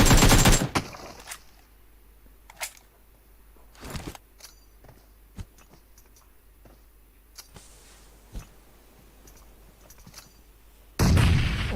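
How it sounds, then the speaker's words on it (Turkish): Scattered distant blasts and sharp impacts from bombs falling in the PUBG Mobile red zone, irregular and mostly faint, with a louder burst at the start and end. "Oy bomba düştü"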